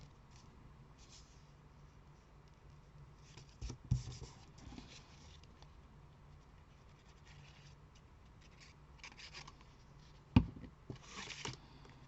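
Paper being pressed down and rubbed flat while gluing a double-fold card, with soft scraping and rubbing passages and a couple of sharp taps, quiet and close with no talk.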